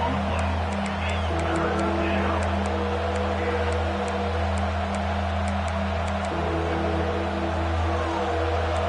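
A packed football stadium crowd roars steadily through an Ohio State versus Rutgers game, a continuous dense wash of cheering and babble with faint rhythmic clapping on top.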